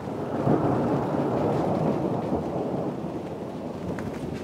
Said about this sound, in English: Wow, this thunderstorm popped up out of nowhere.